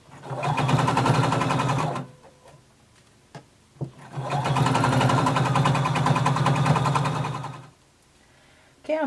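A sewing machine runs at a regular stitch length, sewing a collar down onto a jacket: two long, steady whirring bursts of stitching, close and loud, separated by a short pause with a few light clicks.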